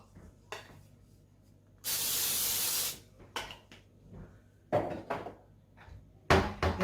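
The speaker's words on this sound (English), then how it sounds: "I'm going to give the top a little spray as well so it doesn't dry out." Spray bottle misting the top of bread dough for Easter bread in a home kitchen: one loud, steady hiss of about a second stands alone amid faint kitchen clatter and small knocks.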